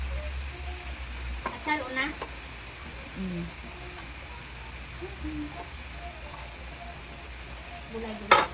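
Vegetables and pickled papaya fry in a pan with a steady, close crackling sizzle, broken by occasional stirring and a louder clatter at the end, while people talk over it.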